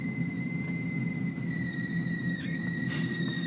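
A 2007 Porsche Cayenne S sunroof motoring closed, giving a steady high-pitched squeal with a slight pitch dip near the end, over a constant low mechanical hum.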